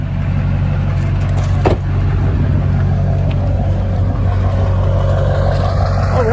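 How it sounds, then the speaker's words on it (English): A Duramax diesel Silverado pickup runs close by, a loud steady low rumble with a brief dip and faint higher whine drifting through, no talk over it. "Boy, that's a good sounding truck"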